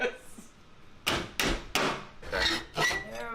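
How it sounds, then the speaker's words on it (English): Metal is hammered by hand, with four or five sharp, ringing strikes at an uneven pace, close and loud, and voices around them. "That just goes right through my fingers when you hammer metal"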